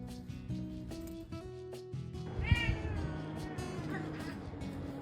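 A cat meows several times, a drawn-out, wavering cry in the middle standing out loudest, close to the listener, with music or background tones running underneath.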